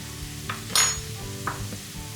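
Onion with cumin and paprika sizzles steadily in a frying pan, with soft scraping strokes of stirring and a brief louder hiss as the spices hit the oil.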